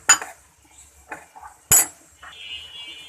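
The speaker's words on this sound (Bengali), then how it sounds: "ডিমগুলোকে আমি এখন এটা চামচ দিয়ে খুব ভালো করে মেখে নেব।" A spoon strikes and scrapes inside a bowl while eggs are beaten for kholajai pitha, a few sharp clinks and clatters with quiet gaps between them, close and fairly loud.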